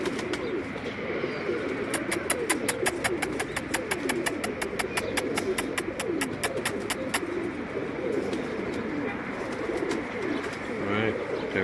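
Ferozpuri pigeons on a rooftop give low, steady cooing through the whole stretch, with a rapid run of sharp repeated clicks or ticks in the middle and constant background hum and traffic noise, with speech alongside.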